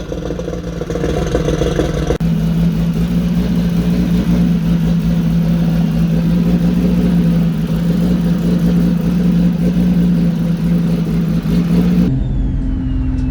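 A built turbocharged Infiniti G35 making about 1000 horsepower holds a loud, sustained engine drone near the microphone, its steady tone running unbroken for about ten seconds before cutting off abruptly.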